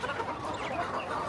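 Young desi chickens hatched in an incubator give a brief, close flurry of soft clucks and chatter that fills the moment without pause.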